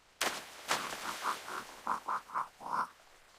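A series of short, nasal croaks repeats in an uneven rhythm, fairly close and clear against a quiet background, like frogs calling at a pond.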